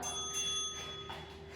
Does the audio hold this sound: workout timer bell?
yes